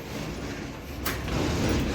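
A sharp metallic clack from a lock, then a low mechanical rumble and scraping rising steadily, all fairly close.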